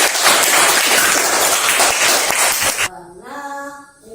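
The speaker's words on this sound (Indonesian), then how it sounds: "Tepuk tangan semuanya." Classroom applause during a science lesson, a dense burst of many hands clapping together that cuts off abruptly, followed by a short tonal sound.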